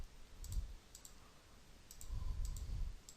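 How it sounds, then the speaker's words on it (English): Mouse clicks while drafting kitchen worktops in AutoCAD: a handful of sharp, quiet clicks in irregular pairs, set against a low hum and faint background noise. "click, click, right click, enter"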